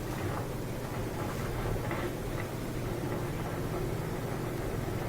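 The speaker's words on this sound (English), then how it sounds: "Here's the sound of that drain motor again." A steady low hum from an LG washing machine's drain motor drones on without pause, with faint watery hiss of moving water in the higher range; no voices are heard.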